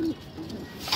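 Pigeons in a home loft give a brief low coo, close and short, with a voice speaking over it.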